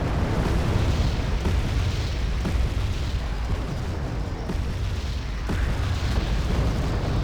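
Uragan rocket artillery firing on a forest in Wargame Red Dragon: a continuous loud, dense rumble of launches and booming impacts with faint sharp cracks, steady for several seconds with no talk.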